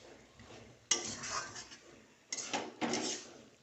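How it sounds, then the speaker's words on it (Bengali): A spoon clatters and scrapes in a pan while coriander leaves are stirred into a singara potato curry filling, giving a few sharp metallic knocks between quieter scraping, close and fairly soft. "এবার এগুলোকে একটু সব তরকারিটার সঙ্গে মিশিয়ে দিই ধনেপাতাটা"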